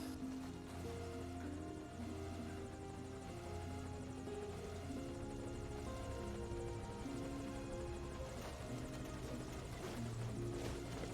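A helicopter arrives in Metal Gear Solid V: Ground Zeroes, a continuous rotor drone under tonal game music, steady and moderately faint, with no voices.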